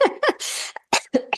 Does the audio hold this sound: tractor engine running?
no